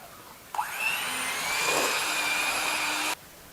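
Electric hand mixer creaming butter and sugar for banana bread, a steady close whirring drone that starts abruptly, holds at an even pitch for about two and a half seconds, then cuts off.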